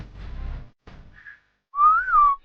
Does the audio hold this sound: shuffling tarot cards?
no